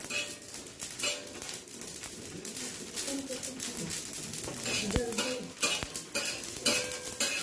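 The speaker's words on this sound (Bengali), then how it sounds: "এতে আছে লঙ্কা, জিরে, আর আছে একটুখানি মেথি। এটাকে একটু তাওয়ায় ভেজে নেব।" Chili, cumin and a little fenugreek dry-roast on a tawa, with close, busy scraping and stirring of a spatula over a light sizzle, the strokes irregular and fairly loud throughout.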